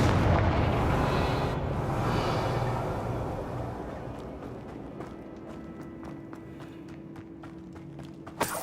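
A Confringo spell explodes in Hogwarts Legacy with a heavy, rumbling boom. The blast slowly fades over several seconds into a low drone, broken by scattered light clicks and thuds near the end.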